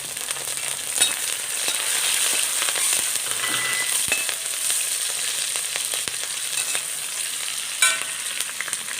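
Green chillies frying in a pan with browned ginger and garlic for a Kerala gooseberry pickle, a steady close sizzle with occasional crackles and stirring clinks, no voices.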